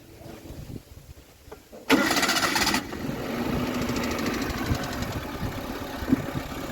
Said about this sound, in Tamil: இப்போ என்னென்னா நம்ம வண்டியை ஸ்டார்ட் பண்ணி விட போகிறோம்